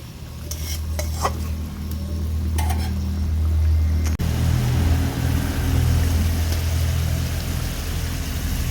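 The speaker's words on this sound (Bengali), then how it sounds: "ডিম গ্রেভি কিন্তু ফুটে উঠেছে" Egg masala curry gravy with slit green chillies boils in a pan, a steady close hiss of bubbling with a low rumble underneath and a few utensil clinks early on.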